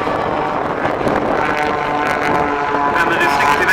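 Highly tuned piston engines of four aerobatic display aircraft at an airshow, a sustained buzzing drone that swells slightly toward the end, mixed with wind noise on the microphone.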